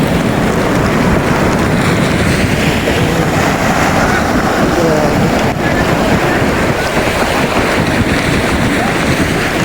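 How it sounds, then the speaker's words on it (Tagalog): A strong typhoon floodwater current rushes in a loud, unbroken roar, heavily mixed with buffeting wind noise on the microphone throughout. "sobrang lakas ng agos. Ito, ano baha talaga."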